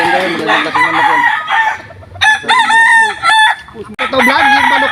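A rooster crows loudly and close by in several drawn-out calls, mixed with clucking between them.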